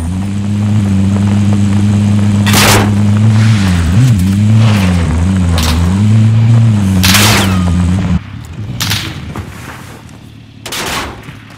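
A vehicle drives through a Call of Duty: Warzone battle royale match, its steady engine drone loud and continuous with a wavering pitch, under sharp bursts of distant gunfire; the engine cuts off partway through, leaving scattered shots.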